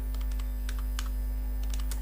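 Steady computer-keyboard typing while Python Tkinter code is entered, with quick irregular key clicks close up over a constant low electrical hum.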